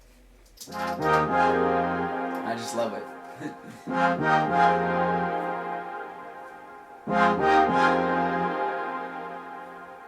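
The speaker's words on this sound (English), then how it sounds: "I had this like silent, like saw organ type of sound." A saw organ style synth chord from an electronic dance track plays in sustained swells, with a soft attack that brightens as the filter slides open, three phrases that fade between, while someone speaks briefly over it.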